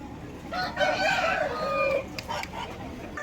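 A rooster crows once at a busy Vijayawada Sunday poultry market, fairly close and clear, with clucking and crowd murmur around it.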